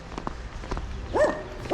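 Two sharp dog barks ring out near the end, following soft footsteps on pavement in Portimão, Portugal.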